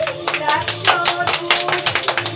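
A small group claps rhythmically and close by, a brisk run of sharp, distinct hand claps that settles into a steady beat.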